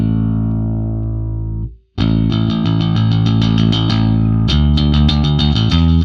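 A homemade bass guitar with its pickups blended fifty-fifty plays through a distorted, chorused effects chain: a sustained note that cuts off, then a run of punchy, rhythmic notes, loud and close with no talking.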